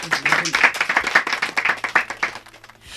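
An audience claps for a singer on a stage show, giving a dense burst of rapid hand claps that is loud and close, then tapers off toward the end.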